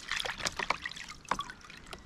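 Water trickles and splashes lightly while freshly cleaned marron, a freshwater crayfish, are rinsed, a quiet irregular dribbling with small drips and no voices.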